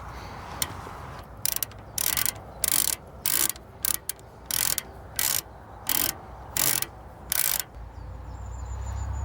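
A tool turns a bolt out of an old Grey Fergie TEF 20 tractor water pump held in a vise, giving about a dozen sharp, close ratcheting bursts in a fairly regular rhythm with brief pauses between.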